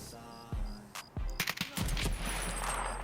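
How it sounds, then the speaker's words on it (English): Gunfire in the video game Escape from Tarkov, several sharp shots ringing out one after another, then a dense burst of loud close rounds followed by a sustained rumbling aftermath, no voices. "he got 3 good shots, one in my arm, one in my chest"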